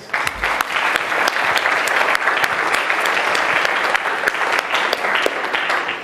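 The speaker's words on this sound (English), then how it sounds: "let's get another round of applause for Dave" An audience at a Toronto talk applauds continuously, dense clapping from a large crowd that stays steady and fairly loud from start to finish.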